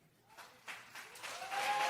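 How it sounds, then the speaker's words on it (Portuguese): A church congregation applauds, the clapping swelling from quiet to a fuller, distant wash of many hands within a couple of seconds, with a faint voice in the background. "Você pode aplaudir Jesus no seu lugar?"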